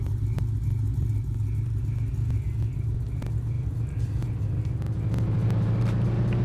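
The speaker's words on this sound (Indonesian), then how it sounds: "Dan dynonya sedang berlangsung ya. Wah, suaranya keren bro." Drag racing car engine roaring steadily on a dyno, a loud continuous deep drone with a constant throttle note and no pauses throughout.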